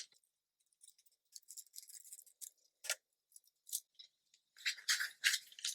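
Scissors cutting through ribbon: a series of close, crisp snips and short slicing sounds in irregular bursts, with quiet gaps between them.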